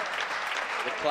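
Crowd applauding at a real tennis match in a Champions Trophy qualifier, a short burst of dense clapping that swells toward the end, with some voices mixed in.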